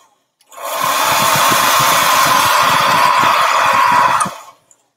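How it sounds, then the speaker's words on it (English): A blow dryer runs loud and close for about four seconds while drying watercolor paint on a color chart, a steady whooshing roar that switches on and off abruptly. "If you have a blow dryer at home, it'll make it so much faster to do a color chart."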